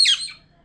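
A pet budgie gives a single sharp, high squawk up close that quickly trails off into quiet.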